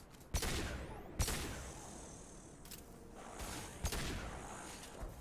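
Gunfire in the video game Mass Effect 2 sounds as several sharp, punchy shots spaced a second or so apart, each with a brief ringing tail over a continuous rumbling background.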